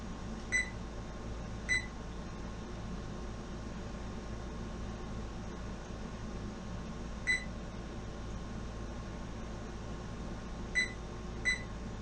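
Oven control panel gives a series of short electronic beeps as it is set to preheat to 350 degrees, spaced single and double chirps over a steady low hum of the room.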